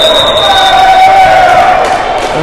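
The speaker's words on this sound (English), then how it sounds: "there's his cheer from his teammates as he gets acknowledged for that great play" Teammates and a crowd cheer loudly after a strong play at a men's volleyball playoff match between Ontario and Quebec, a dense burst of voices with whistle-like tones over the top.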